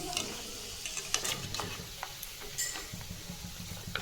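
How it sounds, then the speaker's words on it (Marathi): Soaked grated coconut frying in oil for Diwali chivda, with a close bubbling sizzle and frequent scraping stirs of a spoon across the pan in an uneven rhythm. "खोबरं नॉर्मल चॉकलेटी वर तळून घ्यायचं नॉर्मल गोल्डन"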